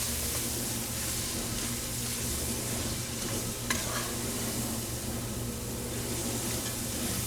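Egg roll filling seasoned with white pepper gets tossed and stirred in a pan, a steady close scraping and rustling with a soft sizzling hiss throughout, no voices.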